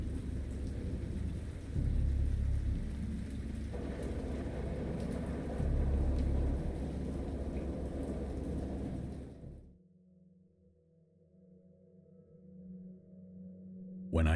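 Steady heavy rain with low rolling thunder swelling twice in the horror video game Dagon, then the downpour cuts out, leaving a quiet low hum.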